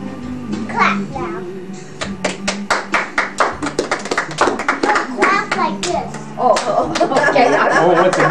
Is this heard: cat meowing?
no